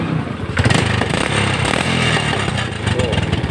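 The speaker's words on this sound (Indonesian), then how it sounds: "knalpotnya aja ini yang nggak bagus teman-teman, jadi bocor ini knalpotnya" An old Honda Vega R motorcycle engine with a leaking exhaust runs steadily and loudly up close, its continuous rough drone with a sputtering, rattly edge throughout.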